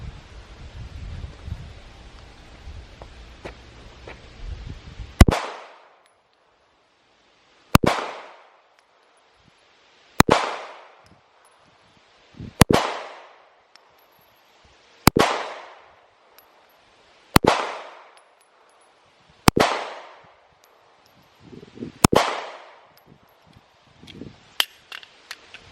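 Slow, deliberate shots from an original Smith & Wesson Shield pistol aimed at a target's head: eight sharp, loud reports spaced a couple of seconds apart, each trailing off in a brief echo, after a quiet stretch of faint rustling and wind.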